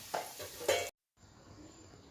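Curry leaves, red chilli powder and homemade masala fry in hot oil in a kitchen pan. Two sharp stirring scrapes and sizzles come first, then a short break and a faint, steady hiss.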